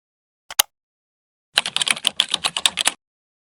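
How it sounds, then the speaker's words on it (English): Computer keyboard typing: a brief double tap, a pause, then a quick rapid run of crisp keystrokes, close and clear with no talking. "First, press the Windows key, type Control Panel,"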